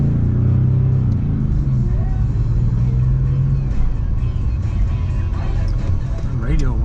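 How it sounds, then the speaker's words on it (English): A 2004 Porsche 911 40th Anniversary Edition (996) with a fuel-injected engine runs with a loud, steady low rumble close to the microphone, settling into an even idle. "It starts like you would expect a newer fuel-injected car to start."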